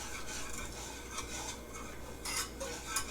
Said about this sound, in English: You just want to whisk until this becomes fully incorporated.